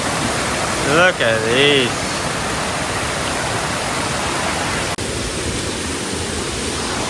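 Steady broadband rush of a waterfall at a campsite in Malaysia, constant and fairly close, with a brief spoken voice early on over the roar.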